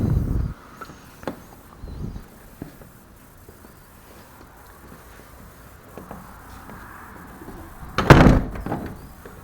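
A heavy church porch door, a newer one, thuds at the start, then quiet shuffling, and later a louder clunk and rattle as it swings shut nearby.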